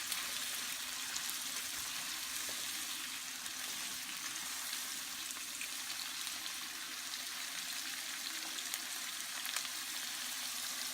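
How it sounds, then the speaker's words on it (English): Onions sautéing in a pan, a steady close sizzle and crackle of frying that holds evenly throughout with faint popping, no voices. "We're going to let them saute for a little while."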